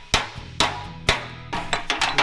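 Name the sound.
hammer working metal edge on a dolly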